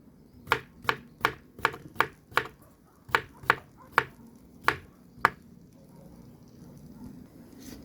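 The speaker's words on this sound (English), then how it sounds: "So I just peel off my cucumber. I am just cutting it up" A knife chopping a peeled cucumber on a cutting board for a sauce outdoors: about a dozen crisp, evenly spaced chops, close and clear, then stopping, with faint background ambience and no talk.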